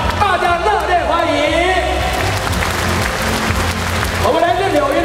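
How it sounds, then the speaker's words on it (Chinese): Audience applause in the Taipei Arena, broad, continuous clapping from a large crowd while a voice speaks over it through amplification, loud and sustained throughout. "给我们的尼泊尔掌声鼓励"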